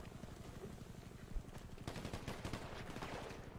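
Rapid bursts of gunfire crackle continuously, machine-gun style volleys with scattered single shots, sounding like game audio at moderate level.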